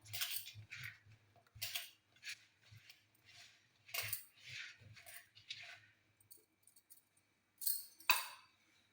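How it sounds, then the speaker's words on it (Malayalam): Onions and green chillies for prawn curry are cut with a knife in irregular, crisp strokes, each a short close clack on a board with pauses between, quiet overall and without talk. "ഇനി ഇതിലേക്ക് നമുക്ക് കുറച്ച് ഉള്ളിയും പച്ചമുളകും അരിഞ്ഞിടണം"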